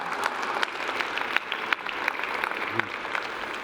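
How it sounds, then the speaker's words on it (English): An audience at a fleet manager conference general session applauds a panelist being introduced, with brisk, sustained clapping from a moderately sized crowd and a few sharper individual claps standing out. "a round of applause for John Domowski"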